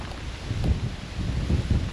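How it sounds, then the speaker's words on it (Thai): Strong wind blows steadily across an outdoor rural spot near a water-well pump in Thailand, a loud, continuous rumbling roar buffeting close against the microphone. "นี่ลม"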